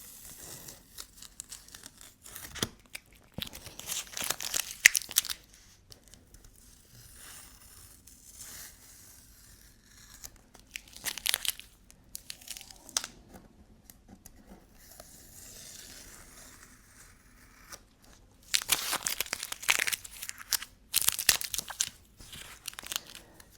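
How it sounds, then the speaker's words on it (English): Masking tape is peeled off a finished painting, with soft tearing and crinkling strips coming in irregular bursts between quieter stretches, close and fairly faint, with no talking. "I love taking off the masking tape at the end."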